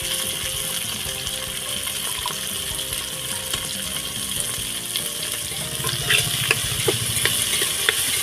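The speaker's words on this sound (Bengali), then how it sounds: "হালকা করে ভেজে নেব।" Beans and carrots are stir-fried in a pan for restaurant-style fried rice, giving a steady sizzle with scraping stirring strokes. Louder clattering clinks come near the end, with no talk.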